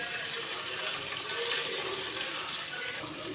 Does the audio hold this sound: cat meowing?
no